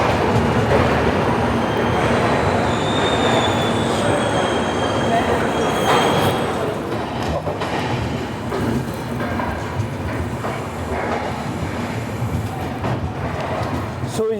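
The Sachkhand Express, train 12716 from Amritsar to Nanded, runs on the rails with a loud, steady rumble and clatter of wheels that eases slightly partway through, with faint high squeals over the din.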